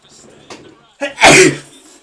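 A single loud, close sneeze bursts out after a faint breathy intake, with soft murmuring before it.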